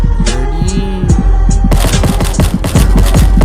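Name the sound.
gunfire in video game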